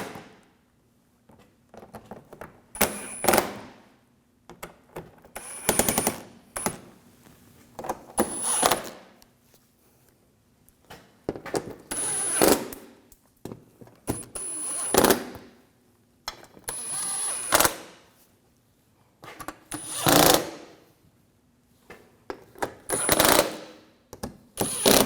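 Screws are tightened on an HID ballast control module of a 2007-2013 BMW 328i with a ratcheting tool, bursts of rapid close clicking separated by short pauses, repeated about a dozen times.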